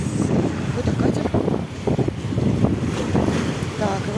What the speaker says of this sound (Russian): Какой-то катер.